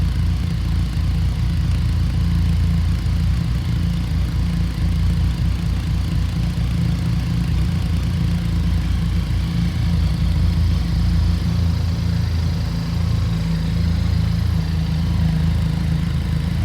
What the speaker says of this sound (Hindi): तो अभी ये गर्म नहीं है, इस वजह से कोल्ड स्टार्ट में ये ऐसी साउंड कर रही है